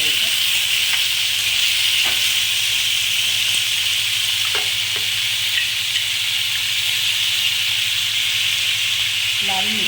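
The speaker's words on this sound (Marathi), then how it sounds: "दोन मिनिटं परतून घ्यायचं." Vegetables, the dish dangrachi bhaji, sautéing in a pan over low gas give off a steady, even sizzle and hiss throughout, with a few faint clicks of stirring and no talk.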